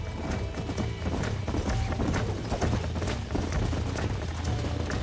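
Horses galloping in Red Dead Redemption, with a steady, close clatter of hooves that keeps running the whole time, mixed with rough crashes and thumps.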